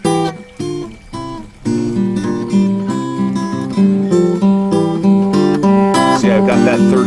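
An acoustic guitar strums and picks the full chorus of a song with ringing chords and a bright melodic line, loud and close.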